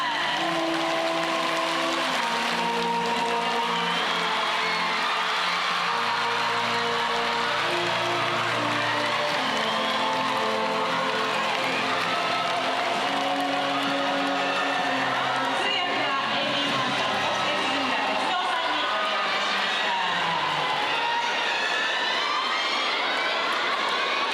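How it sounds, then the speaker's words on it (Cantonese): Audience applause and cheering welcome a special guest at a Japan tour event for the 2002 film Infernal Affairs, a continuous crowd roar with whoops mixed in and music or talk running underneath throughout. "拍手を持って お迎えください"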